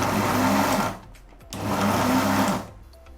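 An electric mixer grinder churns niger seed chutney in two close, loud whirring bursts of about a second each. The motor cuts off for a short pause between them and then stops again at the end.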